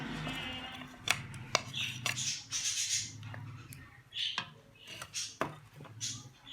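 Chicken pieces for chicken tikka boti being mixed with yogurt and spices in a bowl, with soft wet squelching and scattered sharp clicks of a utensil against the dish, close and intermittent, with faint voices.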